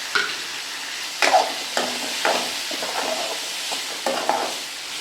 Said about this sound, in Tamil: தக்காளி வதக்குறோம்